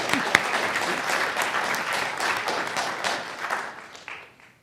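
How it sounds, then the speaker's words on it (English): Audience applause for a panel at an event, a dense burst of clapping that is loud at first and tapers off to quiet by the end. "Let's get them warmed up with a thank you, applause for being here."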